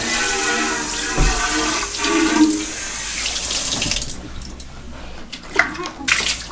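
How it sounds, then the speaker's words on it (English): Tap water runs steadily into a sink while a Berkey filter container is rinsed, with sloshing and splashing shifts before the flow eases and drips and clinks follow. "Rinse the other container out."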